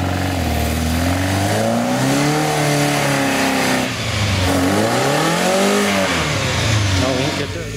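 A car climbs Ramshorn hill on a Torbay Trial motorsport course, its engine revving up and down in repeated swells as it labours slowly uphill, loud and close, with people talking nearby.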